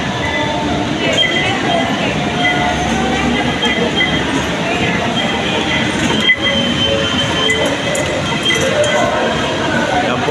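A Manila LRT light rail train heading to Makati rumbles loudly and continuously, with metallic clinks, rattles and wheel squeal throughout, and voices faintly audible beneath.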